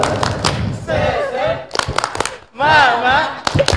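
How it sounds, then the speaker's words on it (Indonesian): A group of schoolchildren at a pesantren graduation event does a rhythmic spirit clap, tepuk semangat. Sharp claps in quick bursts alternate with loud chanting voices. "Tepuk semangat."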